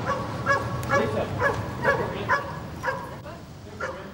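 A US Customs narcotics dog barks repeatedly in a steady rhythm of sharp woofs about every half second, fairly close, with no talk over it.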